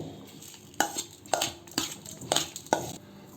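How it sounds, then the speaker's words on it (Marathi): A spoon works through a mixture of curry leaves, mustard, turmeric and salt in a bowl, five or six rhythmic scraping strokes close by for a vada pav chutney. "मोहरी हळद चवीनुसार मीठ हे मिश्रण मिक्स करून घेऊ"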